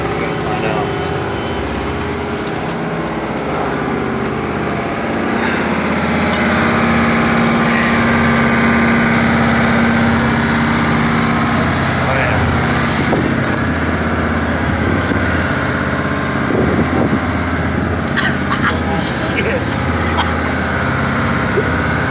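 A motorboat engine drones steadily and loudly throughout, a constant rumbling hum with faint voices mixed beneath it.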